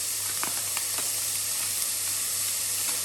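Beef mince sizzles in a hot pan, giving a steady, even hiss with a few faint crackles and pops scattered through it, with no talking.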